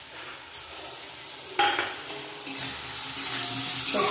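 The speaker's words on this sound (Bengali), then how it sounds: "সর্ষেটাকে আর একটু কষিয়ে নেবো।" Mustard and green chili paste fries in a pan, a close sizzling hiss broken by scraping stirs and a few utensil clinks against the pan.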